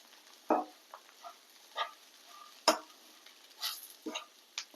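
A spoon stirs ghee through bread upma in a pan, giving a few scattered soft scrapes and light clinks against the metal with a faint sizzle between them, close and fairly quiet.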